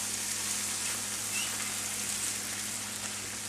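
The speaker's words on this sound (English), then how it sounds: "Hear that sizzle?" Steady, dense sizzling of mushrooms and onions frying in a hot pan, continuous and fairly loud with no talking.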